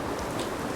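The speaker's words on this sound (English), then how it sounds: "That rain has just gone up a notch" Heavy rain falling on the open deck of the Celebrity Edge cruise ship, a dense, steady hiss of drops pattering on the surface, loud and continuous with no voices.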